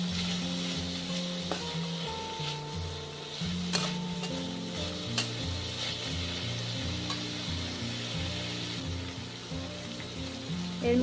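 Vegetables fry with a spoonful of salt in a pan for Chicken Manchurian and egg chicken fried rice. A steady, close sizzle with scraping stirs continues throughout, with a tonal hum or music beneath it.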